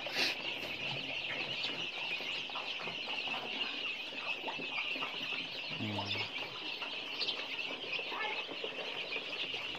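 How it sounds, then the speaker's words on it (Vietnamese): Free-range chickens cluck softly and continuously while feeding on flying termites outdoors, their low murmuring calls steady against a constant high insect-like hiss, with a brief louder low call near the middle. "thấy gà ăn máu cánh này"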